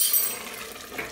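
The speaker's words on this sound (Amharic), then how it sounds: "እኔ ቅቤን አብሬ ነው የምጠብሰው" Lamb stew base frying with berbere spice and butter in a pot, a steady close hiss with a brief brighter sizzle and faint scraping near the end.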